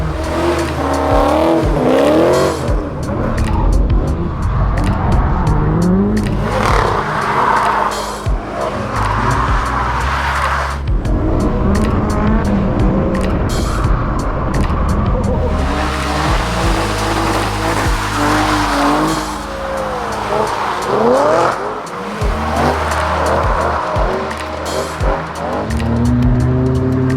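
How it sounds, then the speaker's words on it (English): A McLaren 720S drifts on a circuit, its engine revving hard over and over while the tyres squeal and skid in long, loud runs, close and continuous. "Terrible attempt at drifting with the 720"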